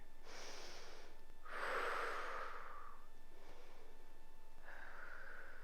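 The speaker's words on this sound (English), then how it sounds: "Let's take 2 more breaths here." Slow, deep breaths are taken while holding a yoga pose, with a few close, airy inhales and exhales separated by quiet pauses in a calm room.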